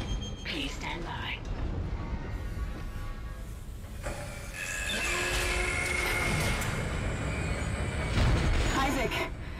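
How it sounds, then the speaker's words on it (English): A damaged tram car is replaced in the Dead Space video game, with rumbling rail noise and metallic screeches that build and grow louder as the car arrives, alongside game voices. "Replacing damaged tram car. Please stand by."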